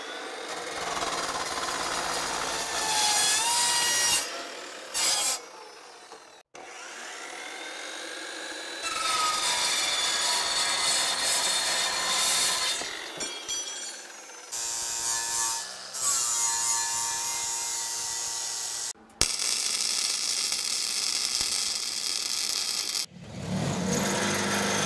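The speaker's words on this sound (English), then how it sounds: "So what was all that grinding, welding, and cutting?" Loud, harsh metalworking noise in bursts: abrasive grinding, welding and cutting with shrill high whine while building trailer accessories, broken by brief pauses, close to the listener.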